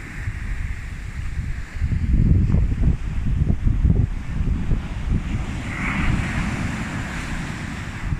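Ocean waves break and wash onto a beach during a baby turtle hatchling release, with a steady roaring surf, heavier rushes and gusty wind buffeting the microphone. No one speaks.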